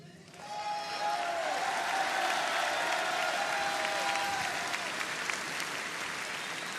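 A large crowd applauding at a political rally in Cannes, dense sustained clapping that swells in quickly and holds loud and steady, with a faint tonal whistle or cheer riding over it before easing slightly at the end.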